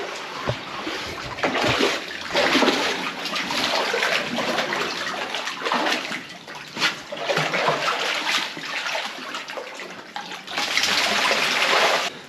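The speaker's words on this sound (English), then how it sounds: "he just jumped in another rock pool" A dog splashing and sloshing steadily in bursts in a rock pool, close by, with a reverberant echo as if in an enclosed rocky space.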